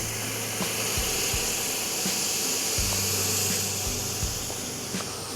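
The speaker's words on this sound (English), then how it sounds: "You already hear it sizzling on that side over there." Water sizzling and hissing on hot coals in a Weber Kettle grill, a steady broadband hiss with faint crackles, continuous and fairly loud.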